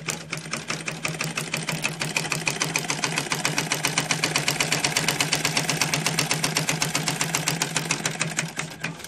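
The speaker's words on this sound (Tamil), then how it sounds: "நான் பேப்பரில் முதல்ல ஸ்டிச் பண்ணி காமிக்கிறேன்." A sewing machine runs steadily, stitching through paper with a fast, even mechanical chatter and a constant motor hum throughout, close and loud with no talking.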